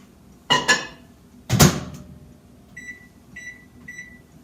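Microwave oven door thumps and clatters twice, then three short, clear keypad beeps follow at even intervals as the cooking time is set, close and fairly loud in a quiet kitchen.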